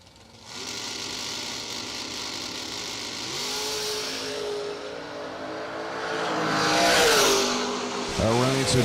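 Drag racing cars roar down the racetrack at a season kick-off event, engines building from a steady drone to a loud revving surge, with a public-address commentator talking over the noise.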